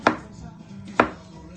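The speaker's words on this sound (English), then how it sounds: "I'm actually chopping the ingredients first. So the first ingredient would be zucchini." A knife chops zucchini on a board in two sharp, close cuts about a second apart, with no voices.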